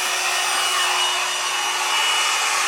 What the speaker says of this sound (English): Now I'm just going to use this little teeny weeny blow dryer.